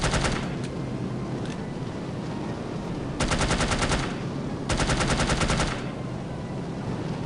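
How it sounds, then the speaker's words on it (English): Gunfire in the video game No One Lives Forever, with repeated machine-gun bursts in short rapid rattles, loud and close, separated by steadier background noise. "We just have to keep shooting these other bastards that come after me."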